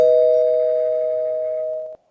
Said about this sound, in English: the dog's barking because she rang that doorbell